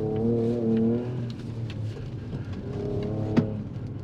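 A 2024 Ford Ranger Raptor engine revs hard under full throttle on a dirt track, a steady loud drone with rising harmonic pitch, easing briefly before pulling again, with a sharp knock near the end.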